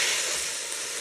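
Minced meat browns in a Ninja Foodi pot, giving a steady, close, bright sizzle and hiss that stays even and unbroken throughout, with no talking.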